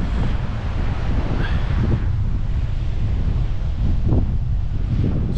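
Strong gusty wind buffets the microphone on rocky sea fishing ledges at Witches Point in South Wales, a steady loud roar with low rumbling surges and faint surf behind it, and no voices.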